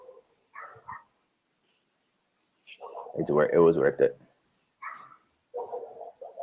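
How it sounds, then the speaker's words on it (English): Two dogs, one small and one big, bark back and forth in bursts separated by short pauses, the louder barking in the middle, with talking voices heard around them. "It sounds like two dogs are having a conversation."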